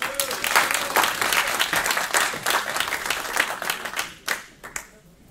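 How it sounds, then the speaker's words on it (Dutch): Audience at a Dutch live performance event gives a big round of applause for two performers: dense, loud clapping sustained for several seconds, then thinning into a few scattered claps as it dies away. "Mag ik een ontzettend groot applaus en uw aandacht voor Kees-Jan Visser en Merel Meijers."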